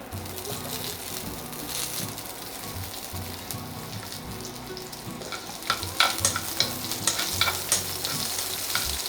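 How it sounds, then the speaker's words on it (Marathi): Salted pieces of Tora fruit hit hot tempering oil in a pan, giving a steady, close crackling sizzle with stirring, which grows louder and more spattery in the second half. No one speaks. "आता हातून घालुया ह्यो मीठ लावन दवरलेल्यो तोराच्यो फोडी."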